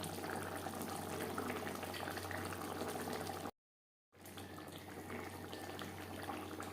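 Bata fish curry simmers in a tomato gravy with a soft continuous bubbling hiss, quiet and close, cut by a short gap of silence midway before the same low bubbling resumes.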